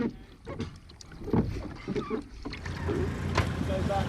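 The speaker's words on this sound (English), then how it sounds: "Their support boat is taking them out to sea, ready to resume their odyssey off the north coast of Cornwall and Devon." Motor of a support boat carrying kayaks out to sea off the north coast of Cornwall and Devon, a low rumbling drone mixed with wind buffeting and splashing water.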